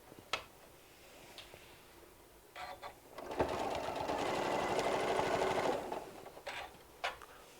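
A Martelli M7 sewing machine stitches a walker bag in a steady, close run of rapid needle strokes lasting a couple of seconds, bracketed by short clicks and brief bursts of machine noise.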